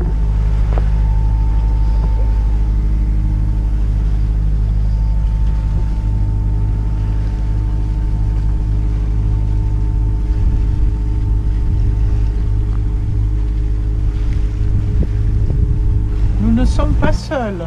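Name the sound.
boat passing on the sea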